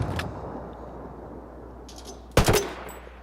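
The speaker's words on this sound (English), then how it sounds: "testing out the grenade launcher attachment for the ACR" An ACR rifle's grenade launcher attachment fires in Ghost Recon Wildlands: a faint early pop, then a single loud, close blast with a brief ringing tail over quiet background.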